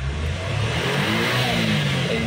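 A Suzuki Every Wagon 4WD with automatic transmission is revved hard nearby. The engine note rises and holds loud and strong, with no voices.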